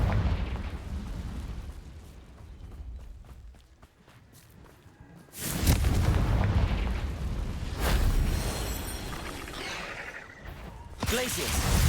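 A Confringo explosive spell blasts in Hogwarts Legacy, a sudden loud boom about midway that swells into a sustained rumbling roar, with another burst near the end after a quieter stretch.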